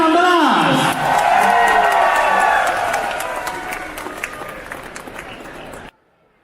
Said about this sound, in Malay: Tuan-tuan dan puan sekali lagi tepukan kepada Jimmy